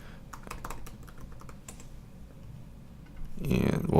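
Keys clicking on a computer keyboard in a short run of quick taps near the start, thinning out, then a louder rustling burst at the end; voice-over talk is faint in the background.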